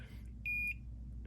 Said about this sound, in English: when it beeps, that means it's giving continuity